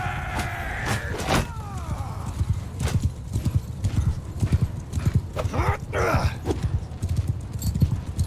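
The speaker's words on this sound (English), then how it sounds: "Just some Kuzedi horse archers." Dense galloping hoofbeats from Khuzait horse archers in Mount and Blade II Bannerlord, with a horse whinny early on, swishing effects and faint battle noise throughout, no talk.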